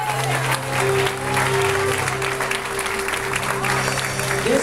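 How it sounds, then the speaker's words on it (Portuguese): A church congregation claps together in sustained applause, dense and continuous throughout, with a steady musical hum and voices underneath. "Vamos aplaudir a Deus."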